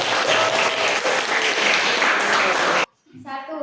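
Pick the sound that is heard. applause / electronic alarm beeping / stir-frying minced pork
applause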